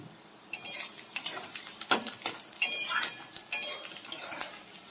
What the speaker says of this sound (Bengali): তো চলো দেখি এটা আর একটু ভাজা ভাজা করে নিই।